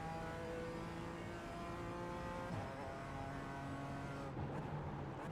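A BMW race car powers out of a corner during a club circuit race, its engine a steady, fairly distant drone with sustained harmonic tones that climb and shift as it accelerates, with no voices.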